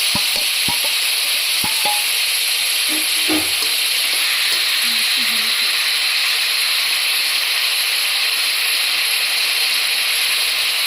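Small fish stirred in a pan with turmeric and salt give a steady, close frying hiss broken by a few scraping clicks from the spoon.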